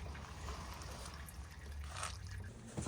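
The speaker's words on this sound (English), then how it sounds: "We got the engine oil calmed down to a slow drip." Engine oil drips and trickles faintly from the drain hole under a Volvo XC70 T6 during an oil change, a steady quiet liquid sound with no talking.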